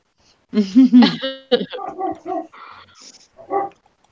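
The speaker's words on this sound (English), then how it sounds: "Oh my God, dogs." Several loud, close barks and yips in quick bursts, followed by softer whimpering yelps trailing off.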